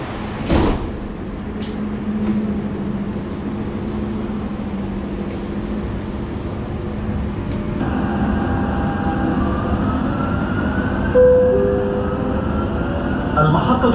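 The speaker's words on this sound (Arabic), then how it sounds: "Doors closing." On the Dubai Metro Green Line at Creek station, a loud thump marks the train doors shutting, then a steady interior rumble builds as the train departs, with rising motor whine and a chime late on.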